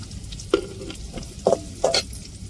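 Dried red chillies (vathal) hit hot oil in a pan for a vegetarian sambar, giving three short crackling bursts over a low background sizzle, fairly close.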